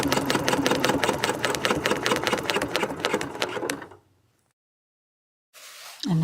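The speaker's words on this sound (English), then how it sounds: "going to stitch a couple of stitches, kind of small stitches" A sewing machine runs a quick, even burst of small stitches at close range, steady and mechanical for a few seconds before it stops, leaving near-silence.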